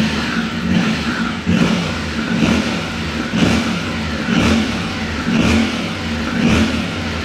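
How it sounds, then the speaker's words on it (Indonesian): A 2025 Yamaha Tenere 700 with a parallel-twin crossplane engine and stock exhaust idles with an uneven throbbing beat, then is revved in a series of repeated swells, loud and close, with no talking. "Khas mesin 2 silinder garis tapi crossplane ya. Itu deg-deg-degnya itu nggak rata gitu."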